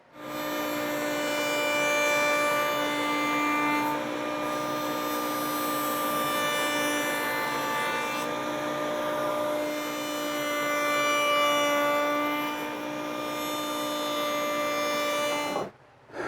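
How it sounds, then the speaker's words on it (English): A router cuts a roundover on the wooden leg sections of a counter-height chair, a loud sustained whine that rises and dips slightly as the bit moves along the wood, then stops sharply at the end, with no voices. "And now I need to cut the roundover on the lead sections right here to match the rabbet I cut in the notches in the seat"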